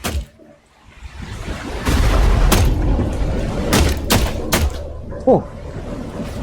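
Gunfire in the video game The Last Caretaker comes as several sharp, loud bangs and thuds over a low rumbling backdrop, with a voice talking briefly.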